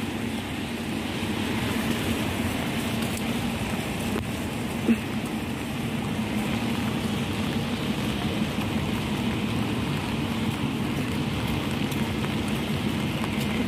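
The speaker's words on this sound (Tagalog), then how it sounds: "ito na naman. Maulan na naman." Steady rain falls on a wet street in Hong Kong as someone walks home outdoors, a constant even hiss of drops on the pavement with no talk, holding at a moderate level throughout.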